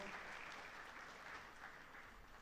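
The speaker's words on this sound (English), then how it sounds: "another bigger round of applause for Wechtiwa." Audience applause at a water and environment week closing ceremony in Uganda, heard as a faint, steady wash of clapping at a distance.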